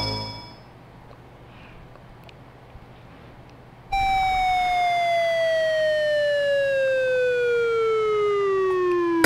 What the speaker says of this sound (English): Goofy fall sound.